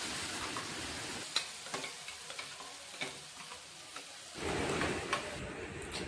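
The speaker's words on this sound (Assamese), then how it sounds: "গোটেইখিনি পেষ্টখিনি দি দিলোঁ তাৱাত। এতিয়া ধুনীয়াকৈ লৰাই আছোঁ।" Pointed gourd paste sizzles steadily on a hot tawa while a spatula scrapes and stirs it in irregular clicks and knocks; the frying swells louder near the end.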